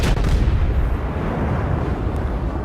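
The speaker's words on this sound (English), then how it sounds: "But I do finally get that volley off" A warship's naval guns fire a volley in World of Warships, opening with a heavy boom that settles into a sustained low rumble, loud and close, with no talking.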